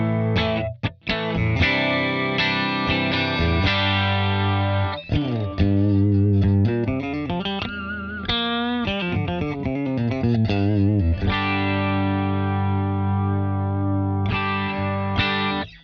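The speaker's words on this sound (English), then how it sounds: "All you're hearing now is passive pickups, the switch, and the volume" An Enya NOVA GO SONIC guitar on its passive pickups, run through a McLaughlin Suite plug-in, plays a dense, sustained stretch of chords and lines with distortion and chorus effects, loud and continuous with brief gaps, and no talking.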